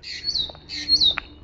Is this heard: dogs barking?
no